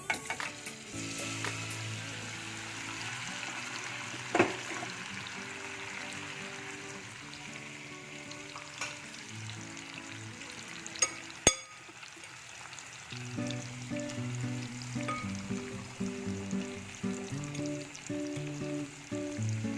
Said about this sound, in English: So now I've heated some ghee, and now I'm going to add the marinated paneer to this.